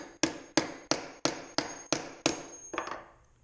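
A hammer strikes a stainless steel weeder blade about eight times at a steady pace to cold work the metal. Each hit rings out sharp and metallic, and the last blows come in a quick double tap before fading.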